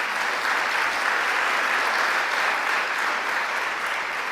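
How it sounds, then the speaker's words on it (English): A crowd at a governor's community-college event claps for Chancellor John King, sustained dense applause at an even loudness throughout. "Let's give him a round of applause as well."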